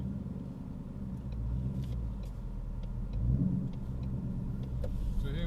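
A 2018 Ford Mustang GT V8 with a manual gearbox rumbles steadily from inside the cabin while driving, a low, continuous engine drone that swells slightly midway, with faint clicks and no talking.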